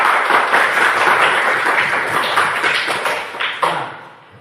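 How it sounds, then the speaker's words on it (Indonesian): A classroom full of students bursts into loud, dense clapping that holds steady for several seconds and then thins out and fades, ending with a few scattered claps. "Tepuk tangan."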